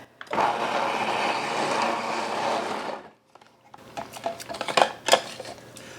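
Fresh farm ginger is shredded in a kitchen machine, giving a loud, steady whirring grind for about three seconds that then stops, followed by scattered clinks and knocks as the machine and its parts are handled.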